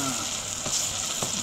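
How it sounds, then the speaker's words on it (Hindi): Tadka spices sizzle in hot oil for a chicken dish, a steady close crackling hiss with soft stirring scrapes. "अभी आके तड़का लगाना शुरू किया."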